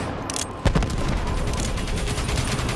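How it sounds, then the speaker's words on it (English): An incoming missile attack in the Call of Duty Black Ops 3 campaign: a heavy blast hits early, then rapid, continuous gunfire and rumbling battle noise roar loud and close. "Missiles incoming!"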